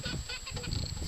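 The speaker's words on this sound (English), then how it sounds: "They're all cockerels." A brief burst of close clucking from chickens and cockerels, several birds murmuring and chattering together at once.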